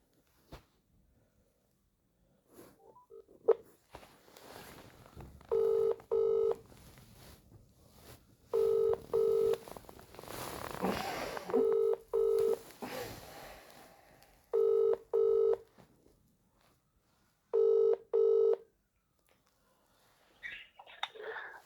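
Phone dialing to a Bradford Council solicitor in the Legal Department for Adult Services: a few dialing tones, then a run of evenly spaced double ringing tones repeating clearly over faint background hiss.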